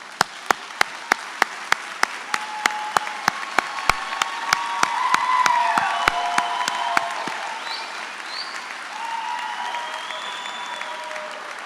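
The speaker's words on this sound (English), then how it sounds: "So please join me in giving them a hand of applause" A White Coat Ceremony audience applauds friends and family, opening with sharp, evenly spaced single claps that swell into a full, sustained round, with faint voices and whistle-like tones drifting through it.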